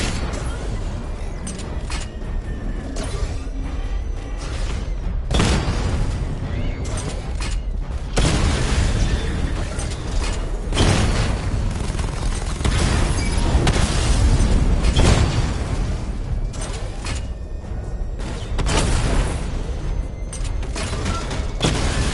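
Repeated missile barrage explosions in Batman Arkham Knight, heavy booms and mechanical clanks rolling in dense waves with sharp bursts around five, eight and eleven seconds, loud and continuous throughout with game sounds underneath.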